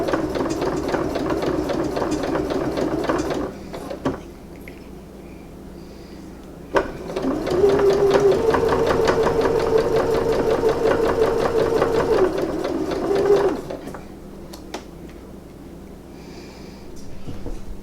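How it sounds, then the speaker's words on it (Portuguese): A sewing machine stitches a handle for a custom bag in two steady runs of rapid mechanical chatter, separated by quieter pauses with faint handling noises. "eu já terminei de costurar a alça"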